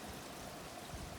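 Rainwater diverted from water butts runs into a garden pond, a steady close trickle and splash of flowing water with no voices.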